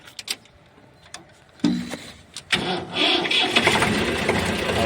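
An Eicher 368 tractor engine cranks, catches and settles into a loud, steady close-up rumble after a few brief clicks and knocks at the start.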